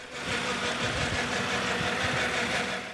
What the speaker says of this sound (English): There's an odd noise coming from the engine which can be heard here.